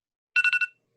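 A telephone bell rings in one short burst of four rapid trills, clear and alone against silence.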